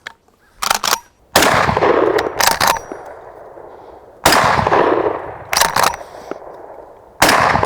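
A Rock Island Armory Puma 12 shotgun firing buckshot: several very loud, sharp blasts, each with a long, decaying ring, spaced a second or more apart with short quiet gaps between.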